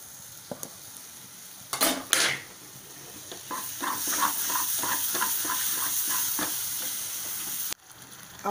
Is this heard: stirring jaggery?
yes